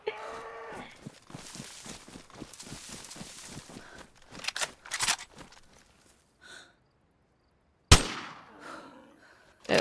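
Gunfire in the DayZ video game: after a stretch of rhythmic rustling and shuffling, one loud, sharp shot cracks out close by, followed by quiet and the start of another burst at the very end.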